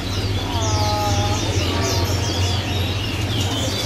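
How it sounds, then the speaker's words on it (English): Caged birds at a bird market in China coo and chirp over a dense, noisy background of crowd murmur and hum, with short overlapping calls throughout. "They got all these birds in these cages, and I guess you come in, you can buy it."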